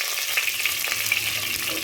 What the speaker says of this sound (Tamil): மசாலாலாம் நல்லா பொரிச்சு இப்போ நம்ம பூண்டு போட்டுக்கலாம்.